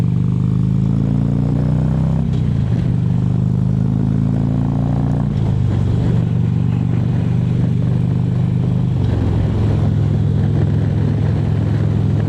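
Several motorcycles pass one after another on a road near Sioux Falls, their engine drones rising and falling in pitch under steady wind rush from a moving rider's microphone, with no talk.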